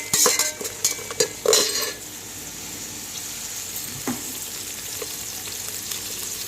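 Whole star anise, shahjeera, black stone flower, nutmeg and cloves hit hot oil for bagara rice, with a burst of crackling and spoon clatter in the first two seconds, then a steady soft sizzle continuing alone.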